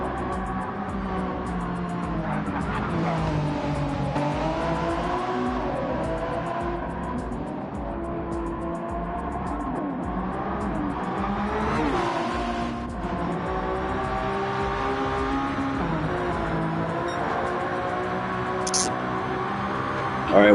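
LMP prototype race cars drone past in a Gran Turismo 7 sprint race, steady engine tones rising and falling as they run in a pack, heard under a commentator's voice.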